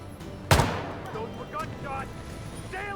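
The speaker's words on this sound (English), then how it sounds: "Those were gunshots." A single sharp video game gunshot bang with a decaying tail, followed by faint chirping sounds and low background noise, from Hitman.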